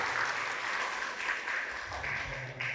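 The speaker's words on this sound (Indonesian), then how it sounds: "Tepuk tangan dong buat Mbak Febrianti" Listeners at an Islamic study gathering applaud a woman named Febrianti, an even, continuous round of many hands clapping in a room, moderately loud and without speech.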